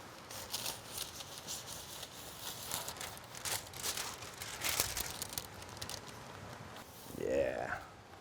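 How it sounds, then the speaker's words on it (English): Plastic backing peels off adhesive tape while window sill and trim are sealed, giving soft crinkling and tearing bursts over quiet handling noise, ending in a louder rip. "And I can peel the plastic as I go."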